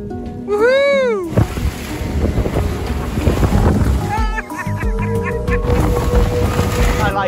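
Gale force wind roaring across a yacht out at sea during a delivery trip, loud buffeting gusts and microphone rumble with sea wash, plus whistling tones and a voice briefly shouting over it.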